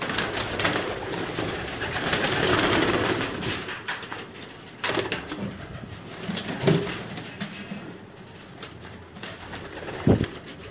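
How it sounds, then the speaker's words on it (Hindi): Pigeons coo softly among ambient yard noise, with a few wing flaps and scattered knocks, no voices present. "कबूतर देखें जी"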